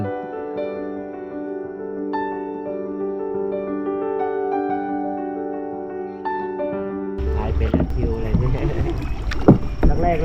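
A rowing boat is paddled across clear water at Khao Yai, Nakhon Ratchasima. A steady tonal hum runs for about seven seconds, then gives way to close, noisy splashing and sloshing over the last three seconds.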